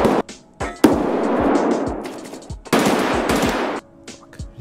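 Gunfire in the video game Escape From Tarkov comes as sharp, loud automatic bursts with short gaps between them, each one ringing out and decaying, with no talking over it.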